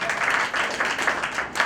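Audience applause at a cultural society tribute event for artists, a brief steady burst of clapping from a seated crowd, fairly close and continuous without pauses.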